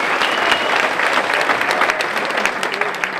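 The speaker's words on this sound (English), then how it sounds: "Give her another round of applause" An audience at a public motivational lecture gives a loud round of applause, a continuous dense clapping with a few distinct sharp claps and faint voices mixed in.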